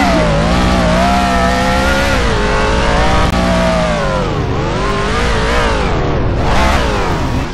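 A race car in the NASCAR 20 video game drifts with a loud, continuous engine roar that holds high revs throughout, its pitch dipping and rising as the car slides, with no talk over it.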